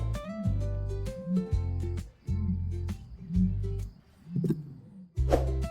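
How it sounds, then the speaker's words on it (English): An ostrich calls with a run of deep, low booming pulses, roughly five in a steady rhythm with short breaks between them, close and fairly loud with no talk. "It's an ostrich."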